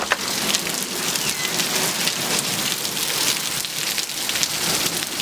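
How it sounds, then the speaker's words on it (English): A heavy downpour after a hail storm in Winkler, Manitoba drums hard and constantly on surfaces nearby, a dense loud roar of rain with scattered sharper drop hits and no letup. "It's still raining pretty hardcore though."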